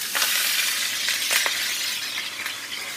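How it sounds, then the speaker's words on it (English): Prawns frying in prawn oil in a hot pan give a steady, close, loud sizzle, with a few faint metallic clinks over the top. "Let them just fry for a little bit."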